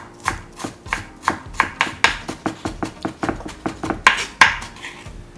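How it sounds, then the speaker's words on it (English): A knife chops sliced carrots finely on a cutting board in a quick, even run of about twenty close, crisp knocks, loud and alone with no speech. "Cut the sliced carrots finely again."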